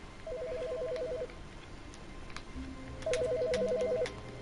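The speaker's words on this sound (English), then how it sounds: "Phone's ringing." A telephone rings in the video game The Stanley Parable, two warbling electronic ring bursts separated by a pause, with faint background noises between them.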